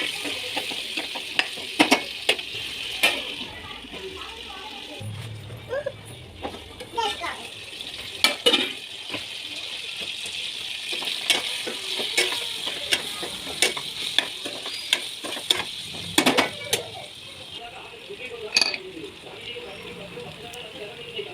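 Pumpkin pieces and onion curry cooking on low heat in a covered pan, Andhra style: a steady soft sizzle with scattered sharp clicks and scrapes from stirring, and faint voices in the background.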